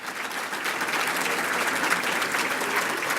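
Steady, dense applause from a crowd at a county Chamber of Commerce event, honoring the standing Board of Directors; clapping fills the room evenly throughout.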